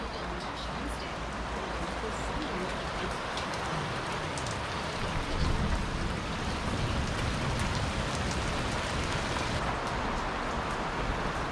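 Heavy rain pours down steadily outside, a dense, loud, continuous hiss of drops hitting surfaces with no pauses, while a person talks over it.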